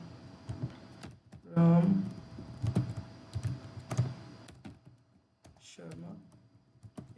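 Fingers tap on a computer keyboard in quick clusters of clicks, close and clear, while someone speaks over parts of the typing.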